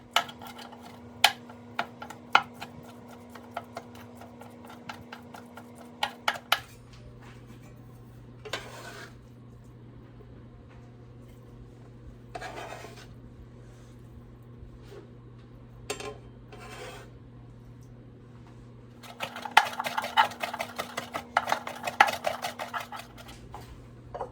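A knife chops salmon, shrimp and vegetables on a board in sporadic taps and bursts, with a steady background hum and clusters of rapid cutting toward the end.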